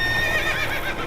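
Roach, Geralt's horse in The Witcher 3, gives a loud, close, high whinny lasting about a second, with faint hoof clops underneath.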